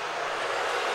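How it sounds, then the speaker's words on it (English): Arena crowd at an Ohio State vs Indiana college basketball game in 2010 reacting to a reversed call, a dense, loud, continuous roar of many voices filling the whole moment. "And you can hear the reaction from the crowd."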